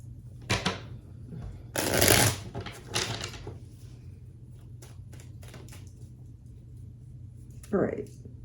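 Tarot cards being shuffled by hand, with quick papery riffles and flutters in short bursts over a steady low hum, then a few faint taps and one brief closing rustle.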